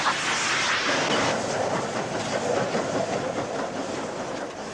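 A passenger train runs along the rails with a loud, continuous rushing roar and rhythmic clickety-clack, close by and alone without talk.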